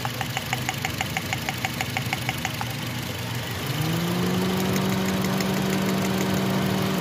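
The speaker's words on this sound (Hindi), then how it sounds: "इंजन वाइब्रेट करने लगे" A 2004 Honda City engine that jerks when accelerating idles with a rhythmic knocking tick, then its pitch rises into a steadier hum with a strong vibrating drone.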